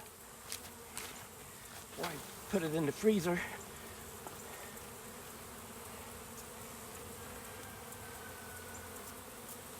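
Honey bees from a freshly hived swarm buzz faintly around the hive, with a few louder passes near the microphone, while someone speaks briefly.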